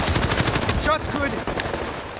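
Rapid automatic gunfire bursts from Call of Duty: Modern Warfare, loud and close, with a faint voice line cutting through midway.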